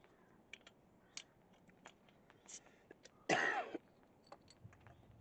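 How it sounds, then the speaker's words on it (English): A single sharp cough, close and loud, breaks a quiet campsite scene, with small scattered clicks and rustles before and after it. "Hopefully get rid of my cough."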